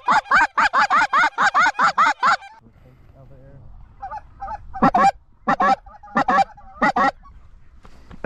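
Snow geese honk loudly and close in a fast series of repeated calls, then after a short lull more calls come in bursts of two and three.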